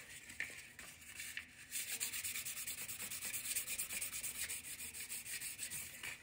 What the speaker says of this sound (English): I'm just getting rid of the big dark marks with my sandpaper